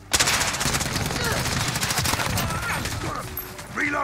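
Rapid automatic gunfire from an AN-94 rifle and other weapons in the Call of Duty Modern Warfare video game rattles in a dense, continuous stream, loud and close, with chirpy radio-like sound effects near the end.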